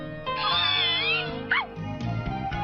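A cat gives several drawn-out meows in a cartoon scene, loud and close, with wavering pitch. A brief higher cry cuts in midway and background music plays underneath.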